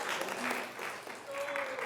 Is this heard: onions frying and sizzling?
no